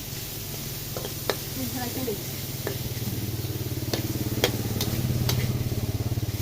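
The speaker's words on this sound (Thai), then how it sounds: "ั่วขั่วหมู ตอนนี้แค่หมูกับกระเทียมสองอย่างก่อน" Pork and garlic stir-fried together in a pan, a steady crackling sizzle with occasional sharp utensil clicks against the pan, over a continuous low droning hum.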